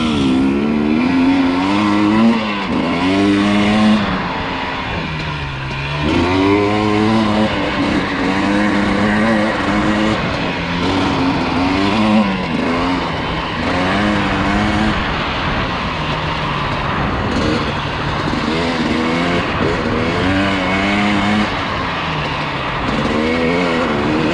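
The engine of a 2020 KTM 250XC TPI two-stroke dirt bike while riding drones loud and close throughout, its pitch rising and falling in repeated revving swells as the rider works the throttle.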